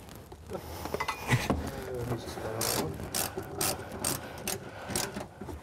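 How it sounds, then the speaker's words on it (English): A ratchet turning on a threaded bracket while a lid is installed, giving a close run of quick clicking strokes mixed with rubbing and scraping noises. "And all I've got to do is find this ratchet."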